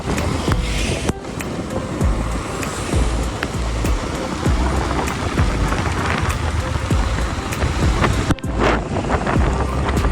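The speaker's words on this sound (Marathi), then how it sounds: "पावसाने आपलं काही ऐकलेलं नाही आहे आणि त्याने त्याचं आपलं काय ते पाऊस सुरू केलेला आहे." Rain falling during a motorbike ride near Lonavala, a steady dense hiss of drops mixed with rushing wind buffeting the microphone, loud and continuous with brief dips.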